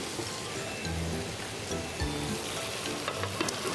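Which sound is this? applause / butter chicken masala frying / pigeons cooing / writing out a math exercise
butter chicken masala frying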